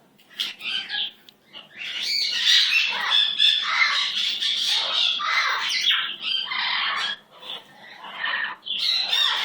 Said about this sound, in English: I love having you out of your cage, Billy bird